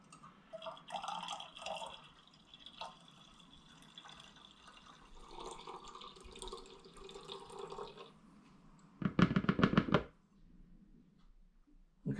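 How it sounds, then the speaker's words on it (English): Apple juice mixed with honey is poured into a glass demijohn, a quiet liquid trickle for several seconds and then a louder, gurgling splash near the end, with no talk. "So I'm going to pour my apple juice and honey back into the demijohn."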